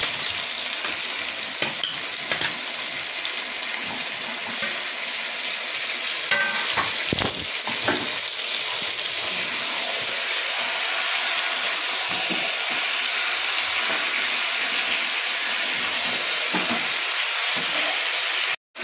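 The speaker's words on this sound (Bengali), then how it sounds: "এবার আমি এতে ভেজে রাখা আলুগুলো দিয়ে কিছুক্ষণ কষিয়ে জল দিয়ে দেবো।" Fried potatoes and chicken curry sizzle steadily in a pan, with a loud continuous hiss and occasional scraping stirs, and no talking.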